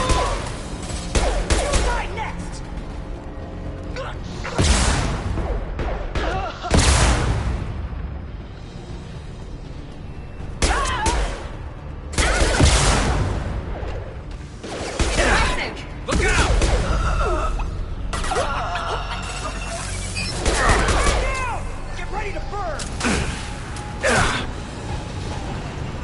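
A high-impact shot fires in Mass Effect 2 amid dense game combat, with repeated heavy blasts and mechanical clatter rising over a constant loud din.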